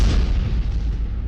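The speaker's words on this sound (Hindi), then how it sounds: "Ka-52 हेलीकॉप्टर से एयर स्ट्राइक की गई।" An air strike from a Ka-52 attack helicopter hits a Ukrainian armoured carrier in Zaporizhzhia, and a deep, rumbling blast roars throughout, loud and sustained with heavy low-end noise.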